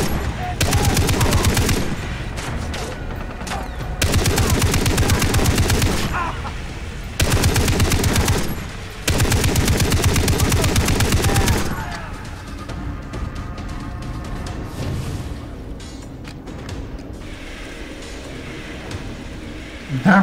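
Automatic rifle fire in the shooter Far Cry 3 comes in long, loud sustained bursts of rapid shots, four main volleys separated by short pauses, then quieter scattered shooting and battle noise.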